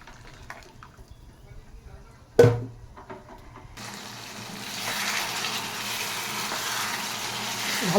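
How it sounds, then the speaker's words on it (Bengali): Goat meat sautéing with ginger, garlic, onion and spices starts fairly quiet, a sharp metallic clank cuts in, then a steady hissing sizzle builds and holds close by. "আমি ভালো করে মাংসটাকে কষিয়ে নিচ্ছি।"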